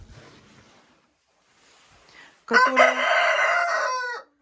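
Soft rustling and faint clucks from Dark Shell hens, then a loud rooster crow rings out close by, long and drawn out before cutting off.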